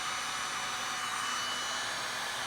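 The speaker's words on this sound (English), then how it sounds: "I'm not touching the resin, it's just a directional push of the hot air" A heat gun pushes a steady roar of hot air across wet Stone Coat art coat epoxy resin, a constant close blowing hiss with no pauses and no talking.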